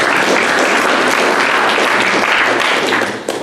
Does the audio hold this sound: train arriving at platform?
no